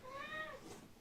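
A house cat named Emma gives a single short meow, faint and close, against quiet room noise.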